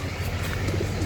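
A bird calls softly a few times against steady low background noise, with a cooing, dove-like quality.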